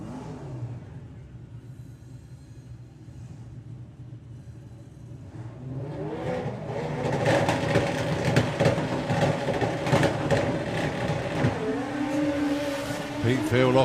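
Drag racing motorcycles launch off the line at the STP Sportsman Nationals, a quiet idle building into loud roaring engines that rise and hold, with a commentator talking over them.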